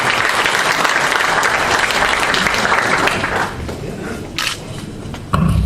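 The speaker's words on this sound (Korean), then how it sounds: "그리고 박수로 남경필 의원님 환영해 주시겠습니다." An audience at a Printing Culture Day ceremony applauds to welcome a lawmaker to the stage. The dense, sustained clapping fills the hall, then thins and fades out before a single voice begins to speak.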